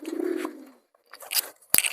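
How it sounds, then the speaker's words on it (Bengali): A few soft coos and flutters of young pigeons close by, interrupted by short gaps and a sharp click near the end. "আমাদের সুলতানের বেবি পায়রাগুলো পুরো বাইরে বেরোনোর জন্য একদম পাগল হয়ে গেছে"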